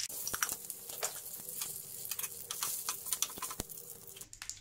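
Curry leaves, mustard seeds and dried red chillies hit hot oil for a sambar tempering, giving a close, steady sizzle broken by sharp crackles and pops that fade near the end.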